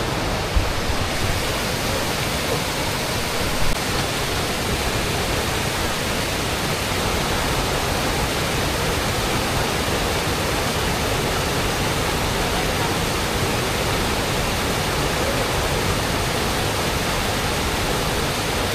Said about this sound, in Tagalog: Maririnig mo yung agos ng ganyan, falls, tapos ilog